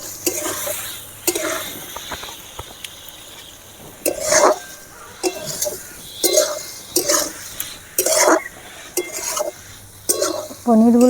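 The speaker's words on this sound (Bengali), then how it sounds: "পনিরগুলো দিয়ে কিছুক্ষণ নেড়ে নিতে হবে।" Paneer cubes are stirred through a pan for chana masala: a rhythmic run of scraping spatula strokes over a soft sizzle, close and fairly loud, with a brief voice at the very end.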